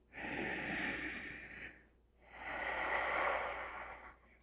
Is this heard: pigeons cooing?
no